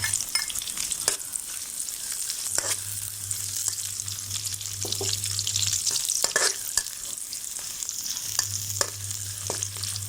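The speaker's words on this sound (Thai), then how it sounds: "แล้วก็จะมาคั่วให้ กระเทียมนี้หอมเหลืองกันก่อนนะคะท่านผู้ชม" Oil sizzles steadily in a pan as chopped garlic and chilies are stir-fried, while a utensil scrapes and stirs with frequent clicks, close and lively, with a low hum underneath.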